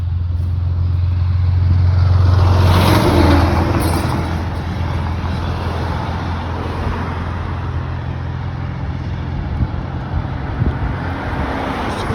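A truck rumbles past on a roadside, loud and close with a deep engine drone that swells and fades, followed by steady tire and traffic noise from passing cars, with some wind buffeting.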